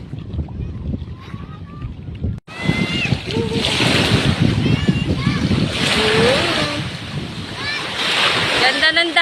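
Waves roll and wash at a beach in Basud, Calbayog City, with steady surf and wind rising after a quiet start while people talk nearby.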